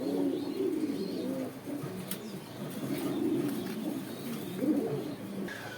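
Satin pigeons at a pigeon sale coo in repeated soft throaty bursts, several overlapping calls at moderate distance over a quiet background.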